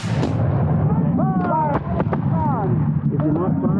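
Black-powder musket volley from a Revolutionary War reenactment of the Battle of Camden, with loud sharp reports scattered across the clip and shouted commands and talk from the ranks.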